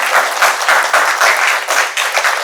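A school board meeting audience applauds and cheers for an honoree, sustained dense clapping with a few cheers, loud and filling the room.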